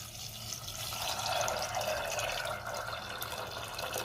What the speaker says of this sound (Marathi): कुकरमध्ये हरभरे, तमालपत्र आणि दालचिनी घालते, त्यातच मीठ घालते आणि पाणी घालायचे।